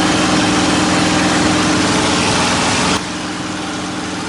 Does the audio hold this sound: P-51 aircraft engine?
yes